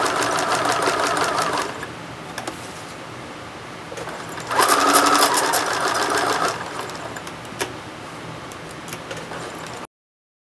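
A sewing machine stitching a quilt with the needle-down setting, running in rapid mechanical bursts with short pauses between, loud and close, with no talking.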